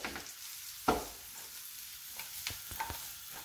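Porcini mushrooms frying in foaming butter and olive oil, a quiet steady sizzle with a few sharp clicks of a utensil stirring in the pan, close up and with no talking.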